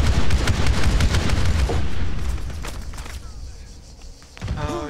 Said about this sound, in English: put a grenade there